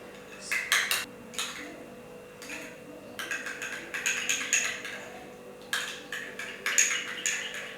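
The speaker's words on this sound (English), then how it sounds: "Mix the egg yolk and fresh cream." Egg yolk and fresh cream whisked together in a bowl for a velouté-based sauce, bursts of quick clinking metal strokes against the bowl separated by short pauses, close and fairly quiet.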